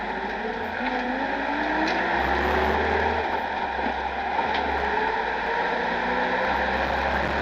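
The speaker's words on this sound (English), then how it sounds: "drives the way you expect a Land Rover to drive, really." A petrol 2.5-litre Land Rover 90 drives along steadily, its engine a continuous low drone with road and wind rush, heard from inside or close by at a constant moderate level with no talk.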